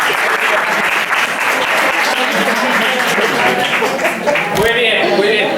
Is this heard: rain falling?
no